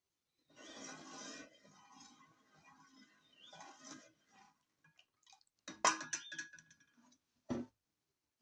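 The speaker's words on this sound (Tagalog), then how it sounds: "Now we will put this juice of carrots. And then we have to mix." Carrot juice being poured and mixed into evaporated milk for homemade cheese, giving soft dripping and clinking with a few sharper knocks of utensil on container, fairly faint and intermittent.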